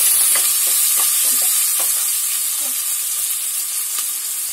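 Garlic and two sliced green chilies sizzling in a pan of oil with onion, a steady close hiss with faint scraping stirs throughout.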